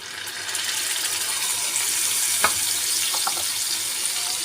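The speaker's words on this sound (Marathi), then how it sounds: "आता आपण त्यात टाकूया कांदा आणि टोमॅटोची प्युरी" Onion and tomato puree fries in hot oil with ginger-garlic paste, a loud, continuous close sizzle with a few faint clinks of stirring.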